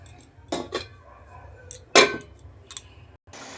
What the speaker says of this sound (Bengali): আগে কড়াইটা ঢেকে দিচ্ছি